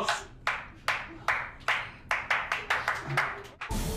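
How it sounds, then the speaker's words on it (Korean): Steady, rhythmic hand clapping, about ten sharp claps at an even pace, close and clear, ending in a sudden burst of broadband noise. "자, 박수."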